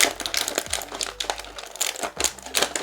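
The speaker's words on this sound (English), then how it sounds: "Sorry about the crinkling." Plastic packaging crinkles and crackles up close while a toy action figure is unboxed, in irregular bursts of sharp rustling with a few soft knocks, with no talking.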